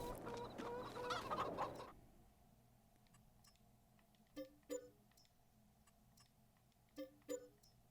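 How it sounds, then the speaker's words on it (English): Chickens cluck in the Farming Simulator 22 video game on the Haut-Beyleron map, opening with a dense, loud burst of overlapping clucks. Sparse, sharp single clucks follow in pairs over a low steady hum. "Alright, there's all our chickens there."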